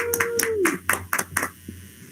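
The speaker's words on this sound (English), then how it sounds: "let's hear a huge round of applause for Joshua Schindler." A handful of separate claps from a board meeting audience, sparse and irregular over a low steady hum, with a brief tone sliding downward at the start.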